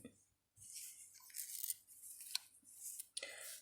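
Scissors snip through fabric for a shabby-style Easter doll, a few close, crisp cutting strokes in quick succession with short pauses between them.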